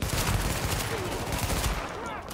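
Rapid automatic gunfire from a firefight in the online shooter Tom Clancy's The Division, a dense, continuous burst of loud shots that eases off near the end, with faint voices mixed in.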